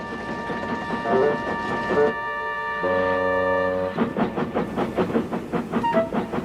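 A locomotive pulling freight cars rumbles with rhythmic clacking, then a sustained horn-like tone sounds before the clattering rolls on, heard up close with no talking.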